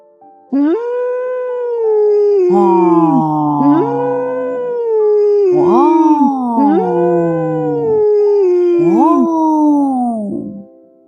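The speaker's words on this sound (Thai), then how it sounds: "เสียงคำรามดังก้องขึ้นจากความมืด" A werewolf howl sound effect for a Thai horror audio story: several long, loud, wavering howls in overlapping layers, rising and falling one after another, with no talk over them.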